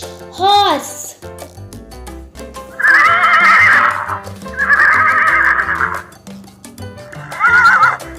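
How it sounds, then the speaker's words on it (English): A horse gives several loud, close neighs and whinnies over background music, opening with a short high squeal followed by three longer whinnies. "Goda, in English, horse."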